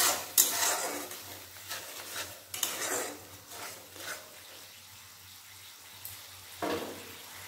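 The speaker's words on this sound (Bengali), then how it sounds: "আমি এর মধ্যে দিয়ে দেবো হালকা করে জল দিয়ে মশলাটা ভালোভাবে কষাবো।" Spices sautéing in a pan with a little water, with soft sizzling under repeated scraping and clinks of a utensil against the pan, loudest early on and easing off before a final scrape.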